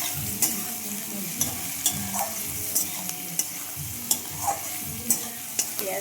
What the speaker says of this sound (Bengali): পেঁয়াজটা ভালোভাবে ভাজা হয়ে যাক